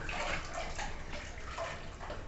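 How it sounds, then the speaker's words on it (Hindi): Water squeezed out of soaked lentil paste bundled tightly in cloth, a continuous close trickling and splashing stream with no talk over it. "इस तरह से उसका पानी निकाल रही हैं दबा दबा के"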